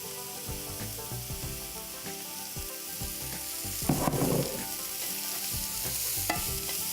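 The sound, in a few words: food sautéing in oil in a pan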